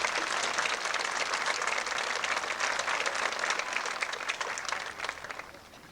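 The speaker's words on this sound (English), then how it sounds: "Let's give these students a round of applause." Applause at a 1999 university spring commencement for graduating students, a dense, even spread of many hands clapping from a large audience, gradually thinning and fading toward the end, with no talk over it.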